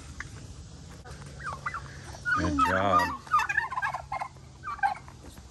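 Turkeys gobble loudly in a burst of rattling calls, with softer chicken clucks, a rooster and other bird calls around them and brief talk from a nearby voice.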